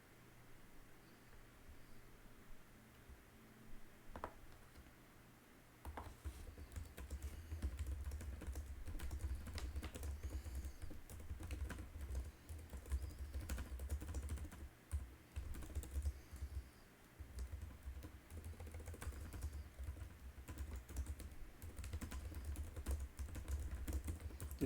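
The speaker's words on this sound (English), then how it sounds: "Just typing up." Steady typing on a computer keyboard, with close, continuous key clatter that starts softly and grows denser and louder after a few seconds, carrying on without pause.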